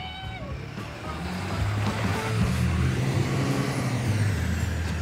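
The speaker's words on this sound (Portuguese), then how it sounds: "Olha essa caminhonetona." Rented Dodge Ram pickup truck driving, a low rumbling engine and road noise that swells after the first second and stays loud and close, with some talking mixed in.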